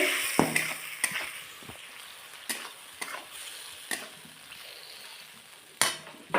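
Pointed gourd being stirred in a pan with a splash of water, a soft continuous sizzle broken by sharp scrapes and knocks of a spoon against the pan at irregular intervals, close up with no voices.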